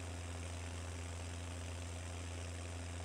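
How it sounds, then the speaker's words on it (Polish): A Ursus tractor engine in Farming Simulator 19 runs at high revs as a steady, loud, dense drone that holds without change, with no talking. "Ale obroty silnika idą ostro tutaj temu Ursusowi"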